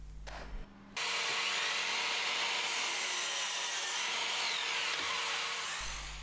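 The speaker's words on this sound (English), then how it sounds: "To cross cut the bits to their final size, I'm going to set up the Trend 18 volt mitre saw and get that done." A Trend 18-volt cordless mitre saw spins up and cross cuts a piece of wood for a bench hook, a loud, close, continuous cutting roar that runs for several seconds.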